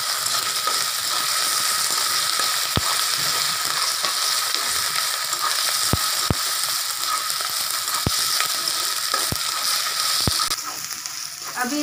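Ginger-garlic paste fries with onion in a pan, a steady close sizzle throughout, punctuated by sharp clicks of a spoon against the pan at irregular intervals.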